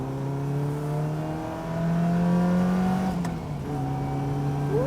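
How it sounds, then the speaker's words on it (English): A Caterham sports car with a Ford Fiesta engine revs hard on a test drive, a loud, steady engine note climbing and holding, then dropping briefly on a gear change before rising again, heard from inside the car. "that engine likes to ring out. It's the best sounding Fiesta engine ever"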